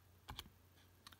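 Quick, faint taps on calculator keys while entering a maths expression, a few clicks in a brief cluster followed by two more after a short pause.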